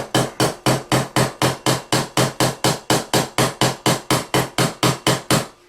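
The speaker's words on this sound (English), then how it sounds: "now we can hammer against the vice grips and not against the trailer" A hammer strikes vice grips clamped on an old Tootsietoys toy trailer during restoration, about twenty sharp metallic blows at a brisk, very even rhythm, close and loud.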